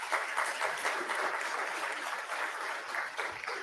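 Applause from the audience at a school board of education meeting recognizing students, a steady, moderately quiet wash of many hands clapping throughout, with no voices on top.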